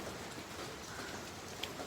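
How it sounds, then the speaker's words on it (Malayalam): Heavy rain falls on garden plants as a steady, soft, continuous patter, fairly faint and with no voices. "നേരം വെളുത്തപ്പം മുതൽ നല്ല മഴയാണ് കേട്ടോ"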